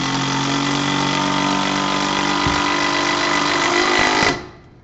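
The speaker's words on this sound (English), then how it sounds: "what that is the sound of hundreds of little impacts that are basically hammering that screw around in a circle" A cordless impact driver hammering a screw into wood with no pre-drill hole gives a loud, steady, rapid buzzing rattle of tiny impacts for about four seconds, then cuts off abruptly.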